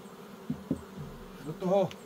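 Honey bees hum around an open hive in spring while combs are being added during rapeseed bloom. Several close, wavering buzzes come and go as individual bees fly past.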